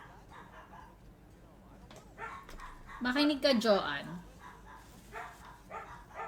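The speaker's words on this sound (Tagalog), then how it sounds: "Gulo-gulo na mga aso ko" Dogs bark in a short excited burst near the middle, loud and close, with people talking throughout.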